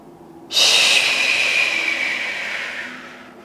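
A single deep breath during a yoga flow: a sudden, close, airy rush of breath starting sharply, then slowly fading over about three seconds.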